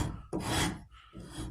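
A hand rasp scrapes a wooden rifle stock on a St. Louis Hawken .50 caliber build, giving two close, rough rasping strokes separated by a brief pause, alone without talk.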